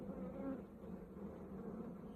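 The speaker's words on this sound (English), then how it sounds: "I'll just knock the bees down into the box and scrape it a bit" Bees buzz steadily around an open hive box during a honey harvest, a close, continuous droning hum at low level with no talk.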